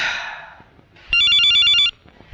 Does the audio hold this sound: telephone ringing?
yes